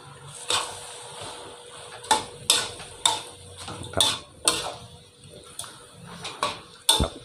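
Dry suki with noodles and vegetables stir-fried in a pan, two or three portions at once, with a metal utensil clanking and scraping against the pan in irregular sharp hits over a soft sizzle.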